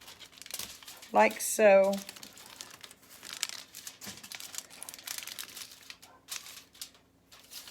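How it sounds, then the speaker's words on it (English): Close, crisp crinkling of tin foil being rolled around sticks, in short bursts of rustling between pauses, with a person speaking briefly. "roll them up in your tin foil"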